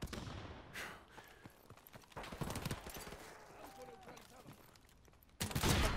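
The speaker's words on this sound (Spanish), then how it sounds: "¿Quién me dispara, loco?" Gunfire in the video game Modern Warfare Remastered comes through faint and distant, with scattered shots and two louder bursts near the start and end. Voices can be heard faintly in the background.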